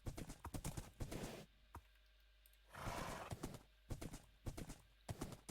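Hooves clip-clop in quick rhythmic bursts as a horse moves in Minecraft, with a brief whinny-like sound in between; the game sounds are fairly faint and play alone with no talk.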